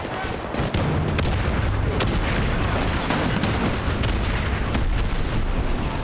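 Continuous booming grenade blasts and rapid gunfire crackle in a dense, chaotic video game barrage, loud and close, with muffled shouting beneath.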